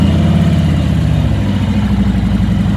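A Harley-Davidson Road Glide motorcycle engine idles steadily up close, a dense, even low rumble with a fast regular pulse, heard alone without any talk.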